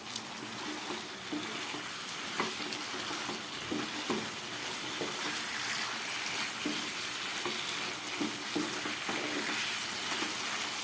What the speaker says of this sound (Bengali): সমস্ত পেঁয়াজ, আলু আর এই চিকেনটাকে আরও 4-5 মিনিট মতো আমি কষিয়ে নেব।